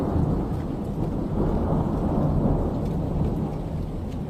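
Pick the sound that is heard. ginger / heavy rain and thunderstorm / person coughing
heavy rain and thunderstorm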